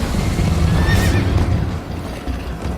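A horse in Minecraft Story Mode lets out a loud, close whinny, with rhythmic hoofbeats and game sounds carrying on around it.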